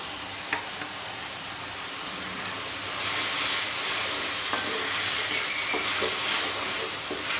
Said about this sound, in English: now we have to cook this masala till the oil separates.